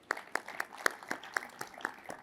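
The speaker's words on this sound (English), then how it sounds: "a round of applause" Sparse clapping at an auto industry awards show, roughly nine distinct, evenly spaced claps in quick rhythm, fairly close and moderately loud, with no talking over them.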